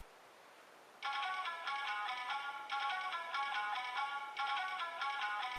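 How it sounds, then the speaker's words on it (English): A Power Rangers Samurai Morpher toy phone sounds an electronic ringtone of bright, repeating beeps in two bursts, near and clear after a second of quiet hiss. "After about a minute idle, the phone rings twice."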